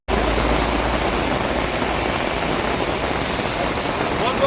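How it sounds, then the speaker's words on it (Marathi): Heavy rain falls steadily during an outdoor Pandharpur wari pilgrimage stop near Venegaon, a dense, even hiss heard close and continuous throughout. "खूप पाऊस"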